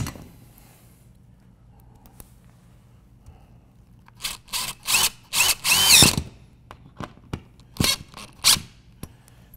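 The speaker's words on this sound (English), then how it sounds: "And I'm going to tighten these up just to let you see how it looks." A power drill tightens screws into a network patch panel in short whirring bursts, several close, loud spurts with brief pauses between, against otherwise quiet surroundings.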